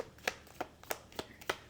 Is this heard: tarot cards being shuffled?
yes